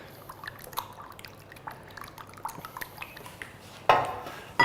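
An egg beaten for egg wash, a quick run of light clicking taps of a utensil against a bowl, close and fairly soft, ending with a couple of louder knocks.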